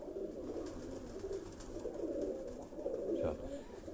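Pigeons coo in a loft, soft repeated low burbling calls close by, with faint voices murmuring in the background.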